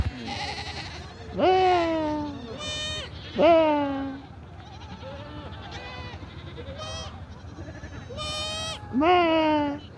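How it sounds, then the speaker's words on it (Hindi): Goats bleat repeatedly in the Ladakh mountains, several loud, wavering calls from different animals overlapping from near and farther off, with a steady background hiss between them. "चारों तरफ से अभी बकरियों की चिल्लाने की आवाज़ आ रही है"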